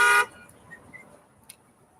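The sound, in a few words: car horn honking on Las Vegas Strip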